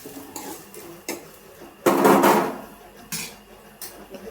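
A metal wok clatters and scrapes in sharp bursts while tomatoes are tempered in oil, with one louder, longer rattle in the middle and several quick knocks around it.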